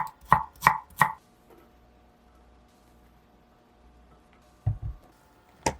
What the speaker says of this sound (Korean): 적양파 반 개는 작은 크기로 잘라 작은 볼에 넣으세요.